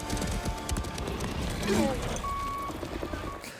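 Horse-like creatures from the 2009 film Avatar gallop with loud, rapid hoofbeats amid dense movie sound, punctuated by shrill rising cries.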